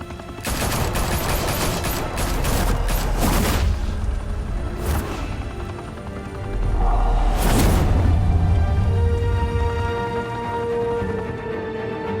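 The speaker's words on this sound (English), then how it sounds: "Open fire!" Rapid bursts of gunfire and machine-gun volleys rattle through a Batman scene, with dense repeated shots, sharp cracks and heavy booming impacts over about twelve seconds, loud and close without talk.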